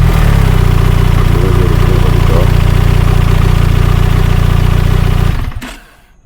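A BMW R1300RT motorcycle engine running at a rough, steady idle close by, then cutting off abruptly near the end, leaving near silence.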